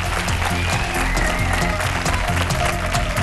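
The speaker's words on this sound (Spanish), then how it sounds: "Un fuerte aplauso para Gonzo" A television studio audience gives a strong, steady round of applause, dense clapping throughout with crowd noise beneath it.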